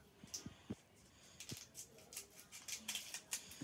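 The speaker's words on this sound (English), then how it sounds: "So I've got to cut that a bit more." Scissors snip faintly at a Pokemon Team Up card pack in a few small, quiet cuts, with light rustling of the foil wrapper between them.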